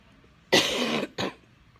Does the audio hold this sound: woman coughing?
yes